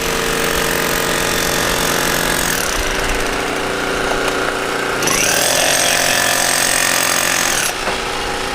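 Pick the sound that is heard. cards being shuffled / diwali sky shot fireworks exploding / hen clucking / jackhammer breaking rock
jackhammer breaking rock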